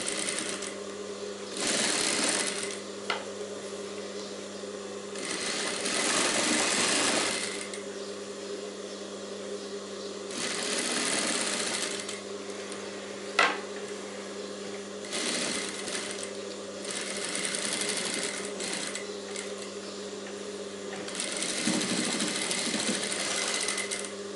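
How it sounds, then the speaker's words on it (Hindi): A sewing machine stitches the lining of a princess-cut blouse with a stand collar in several humming runs separated by brief pauses, with a sharp click partway through. "इसके लिए हम यहाँ पे एक धारी पे सिलाई लगा देंगे।"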